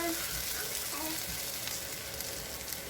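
Flour cooking in melted butter in a pan gives a steady, close sizzling and frying hiss throughout, with faint stirring scrapes and no talking.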